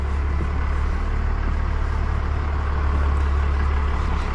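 The White Pass and Yukon Route tourist train near Skagway, Alaska rumbles steadily, a continuous heavy low engine drone at close range with no talk.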